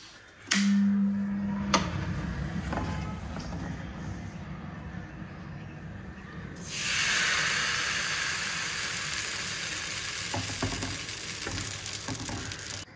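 Oats roti set on a hot tawa, giving a soft sizzle with a clack early on, then a louder, broad hiss of frying that carries on steadily to the end.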